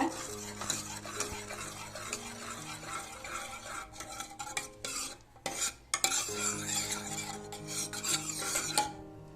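Cooked moong dal for a sago payasam being mashed with a ladle in a pot, a continuous close rasping and scraping with brief pauses, no voices.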